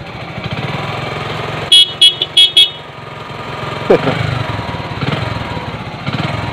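A Bajaj CT 100 motorcycle, one with a battery that drains and will not charge, runs with a steady, buzzy engine note. Four short horn beeps sound in quick succession partway through, followed by a sharp click.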